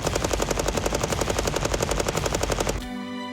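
A machine gun fires rounds at about nine per second while clamped to a tabletop tripod, a loud, steady rapid burst that stops abruptly, leaving a short ringing tail.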